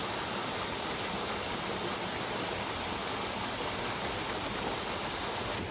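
A stream flows beside a hiking trail in Kundasang, Sabah, near Mount Kinabalu, making a steady, even rushing hiss of water with no pauses and no voices.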